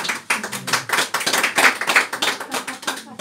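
A small audience at a live card magic show claps in a brief burst, the individual hand claps distinct and close, alone with no talk over them.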